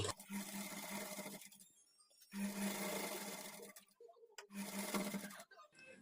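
A sewing machine stitches the front part of a blouse in three short runs of whirring, each a second or two long, separated by brief quiet pauses.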